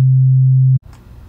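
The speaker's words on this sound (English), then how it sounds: "if you listen carefully, you can actually hear the individual tones being played" One pure sine tone from additive synthesis in the Serum synthesizer holds a steady low pitch for under a second, then cuts off abruptly into faint residual noise.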